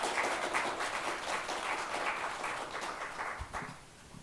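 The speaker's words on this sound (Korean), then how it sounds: "박수 부탁드립니다." Applause from the audience at an ESG academic society conference as a lawmaker is introduced for congratulatory remarks, a steady wash of clapping that gradually tapers off near the end.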